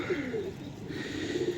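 Pigeons coo softly on a rooftop loft where young racing pigeons have just had their wings freed, low rolling coos repeating across the whole stretch, close and steady, with no voices.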